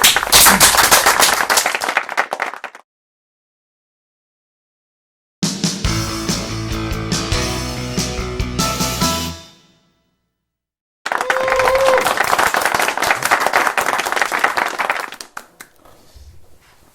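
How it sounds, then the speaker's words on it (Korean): A small group on a golf program claps in two bursts of a few seconds each, separated by silence and a short stretch of music, with the second round of clapping trailing off into quiet. "자, 박수."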